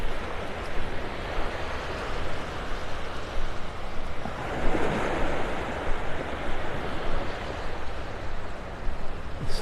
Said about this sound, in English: I love my mornings at the beach.